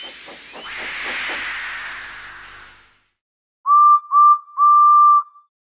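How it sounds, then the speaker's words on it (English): A cartoon steam engine named Edward gives a loud, close burst of hissing steam with chuffing beats for about three seconds, then after a pause three bright steam-whistle toots sound alone. "So they lit his fire, made lots of steam, and Edward puffed away."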